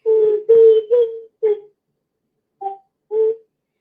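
Short electronic tones on a phone line during a call-in broadcast with a communication problem: a run of quick beeps, then a pause, then two more isolated tones, fairly loud and alone.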